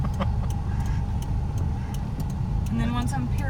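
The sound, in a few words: car turn signal blinker ticking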